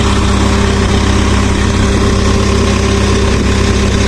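A fishing boat's engine runs steadily, a loud, constant droning hum with a low throb and no change in pace, heard close and alone.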